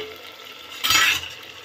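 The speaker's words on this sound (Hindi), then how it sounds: "दोस्तों अब हम चला के देख लेते हैं अपनी सब्जी को" A short scrape and clink of a spoon stirring aloo matar curry in a pan over a low gas flame, one brief burst in a quiet kitchen with a faint sizzle.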